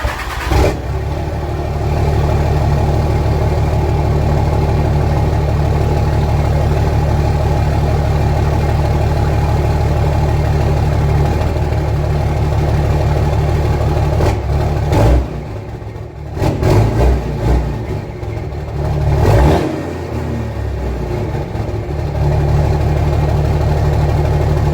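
A 2006 Cummins diesel truck fitted with an 8-inch axle dump exhaust and 5-inch downpipe idles loud and steady, its deep rumble close and continuous, with a few brief revs and surges partway through.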